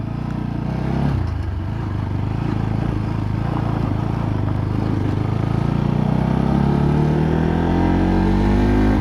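A Bajaj NS200 BS4 2020 motorcycle revs hard and accelerates, its engine note climbing steadily in pitch over several seconds, loud and close with no talk.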